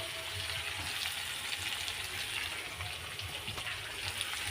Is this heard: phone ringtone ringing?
no